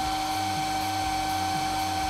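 A Lukey V6 hot air soldering station blows a large airflow while heating up, giving a loud, steady whine and rushing hiss with a constant tone and a faint pulsing hum underneath.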